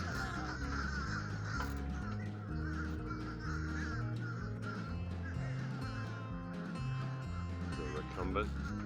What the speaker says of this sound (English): Sounds like we got a couple birds up there.